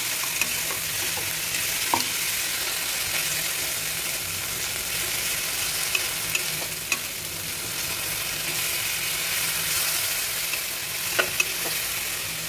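Tomato and peanut masala paste frying in oil in a pan, a continuous close sizzle with intermittent sharp taps and scrapes of the spatula against the pan as it is stirred.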